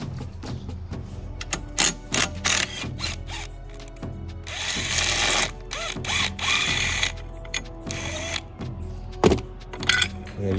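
Ratchet loosening 16mm radiator bracket bolts on a 2018 BMW 530i during a radiator replacement, with bursts of rapid close clicking between pauses and metallic handling of the parts.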